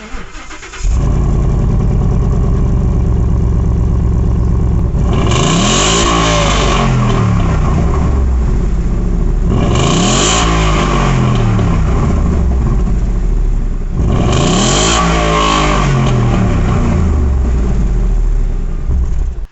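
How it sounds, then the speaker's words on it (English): A Ford Mustang with a straight pipe exhaust idles with a deep rumble, then revs three times in spaced bursts. Each rev climbs sharply and falls back, loud and close, with no voices. "this straight pipe exhaust neither has a very obnoxiously loud sound, nor does it have a very silent sound"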